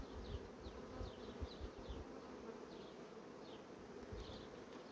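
Honey bees buzz steadily around an open hive during the making of artificial swarms from a colony in swarming fever. The close, dense hum carries brief higher buzzes of single bees flying past, with no talk.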